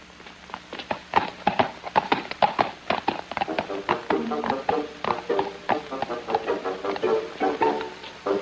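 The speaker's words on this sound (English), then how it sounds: "Sir Corrado, would you mind giving a look at this horse's hoof?" Horse hooves clip-clop in a steady, slightly uneven rhythm of sharp taps, fairly close and continuous, as if a horse walks or trots on hard ground in a 1959 period film scene.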